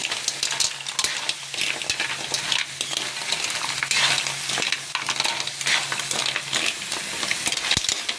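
Mussels and clams sautéing in a pan are stirred with a utensil, giving a continuous sizzle punctuated by scraping and clinking strokes against the metal, close and fairly loud throughout.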